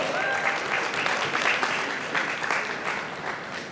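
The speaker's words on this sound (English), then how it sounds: "Please welcome them with a round of applause." An audience applauds a panel at a Social Media Week style event, with steady, dense clapping from a crowd at moderate distance throughout.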